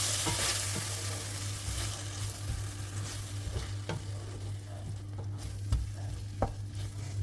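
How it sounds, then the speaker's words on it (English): Jarred pasta sauce poured over meatballs in a hot pan, giving a steady close sizzle with soft stirring scrapes and a few sharp clinks, no talking. "so now I'm just going to add some pasta sauce"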